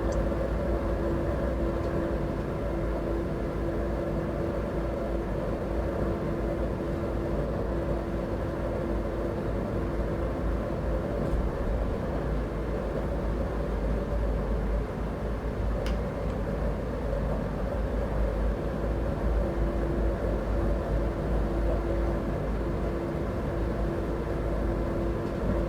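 Siemens Vectron electric locomotive hauling a freight run on the S-Bahn Vorarlberg route in Train Sim World 4, a steady unbroken rumble with a sustained motor hum, continuous and even throughout with no voices.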